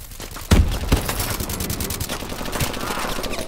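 Rapid automatic gunfire from the AMR9 weapon in Call of Duty: Advanced Warfare, with a loud burst near the start and a sustained, dense crackle of shots and explosions that continues throughout.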